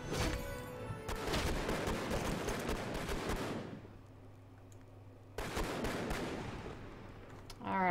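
Pistol gunfire in a video game set on a Halloween-themed island, with dense rapid shots for several seconds, a lull, then another sharp burst; a voice is heard speaking over the shooting.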